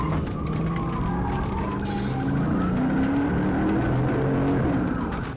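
A car races away from police at high speed, its engine roaring continuously with rising and falling tones and squealing tires, loud and close, with no talking.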